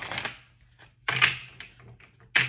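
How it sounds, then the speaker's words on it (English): Playing cards being shuffled in three quick riffling bursts, fairly close and crisp, with quiet pauses between them and no talking. "One more shuffle, y'all."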